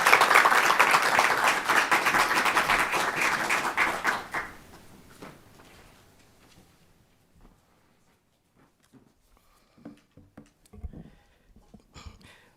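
Summit audience applauding, a dense burst of clapping that fades out after a few seconds, leaving scattered faint taps and light room noise.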